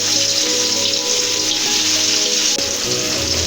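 Onions sizzling in hot oil left over from frying fish, a steady loud hiss with a brief crackle near the end and no talking.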